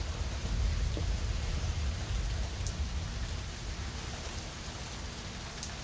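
Steady rain patters throughout, a dense wash of falling drops with a low rumbling texture, fairly constant in loudness and with no voices.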